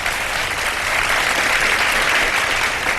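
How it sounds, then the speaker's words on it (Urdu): Studio audience applauding on a Ramadan iftar television show in Pakistan, a steady, dense wash of clapping that holds loud and even for the whole stretch with no voices over it. "ذرا اپنی تالیوں کی صورت میں ان کو مبارکباد دے دیجئے"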